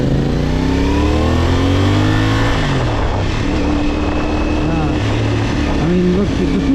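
A CFMOTO 450SR two-cylinder motorcycle engine heard while riding, revving up and down through gear changes with a rising and falling drone under wind noise and a rider's talking.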